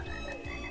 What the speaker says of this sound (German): Tatsächlich, geil, das sind Frösche.